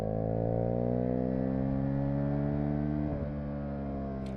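A VOGE 125R motorcycle, a 2023 EU5 model, rides along steadily, its small single-cylinder engine holding a smooth, continuous hum with a slight dip in pitch near the end, loud and close throughout.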